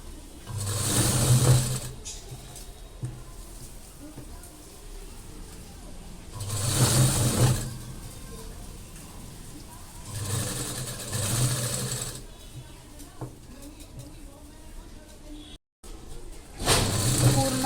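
A sewing machine stitches a lined blouse in four separate runs of whirring, a couple of seconds each, with quieter handling pauses in between.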